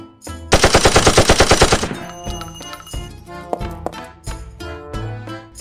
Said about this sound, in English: Why don't we shoot the person in the shadows?